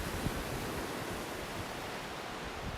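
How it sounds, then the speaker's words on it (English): Waves crash steadily on the shore of Smuggler's Bay, a larger private beach, making a continuous broad roar of surf with wind mixed in and no distinct breaks. "another private beach, a larger one with crashing waves"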